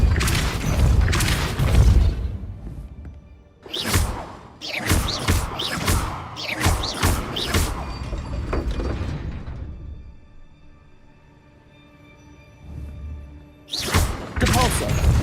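Repeated spell blasts from Hogwarts Legacy gameplay: bursts of sharp whooshing impacts and booming thuds, a dense cluster mid-clip and more near the end, with a lull between.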